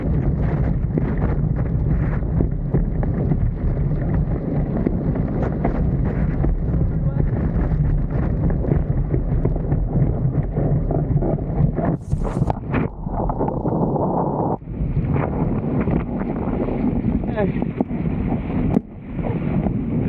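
Strong wind gusts buffet the microphone during a windsurfing practice heat on open water, a continuous loud roar with surging gusts and water noise, briefly interrupted by short bursts near the end.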